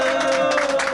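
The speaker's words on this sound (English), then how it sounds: "I think the first thing they deserve is a round of applause" Crowd applause at a 1995 Cavan junior championship final gathering, a steady burst of clapping and cheering welcoming two players home from Toronto, close and dense throughout.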